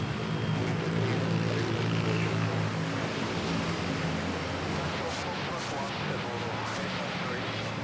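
Aircraft arriving at Manila Airport produce a dense, continuous roar of engine noise that fades slightly over several seconds, with a voice talking faintly beneath the din.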